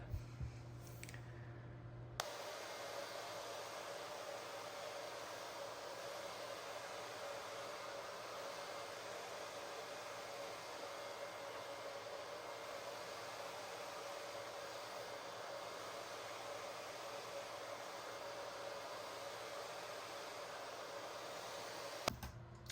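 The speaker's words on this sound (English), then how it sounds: "let's go ahead and finish drying this up" A hair dryer blows steadily on a freshly washed honey brown and blonde human hair wig, a continuous close whooshing roar that starts after a brief quiet moment and runs almost unchanged to the end, with a few faint clicks.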